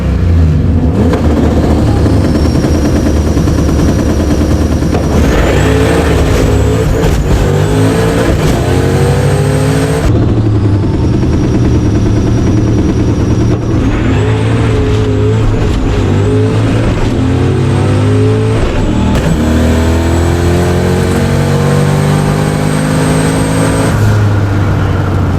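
A turbocharged stick-shift street car makes a drag racing pass, its engine loud and close as it revs hard through repeated gear changes, with rising pitch sweeps broken by sharp shift breaks and a turbo whine above.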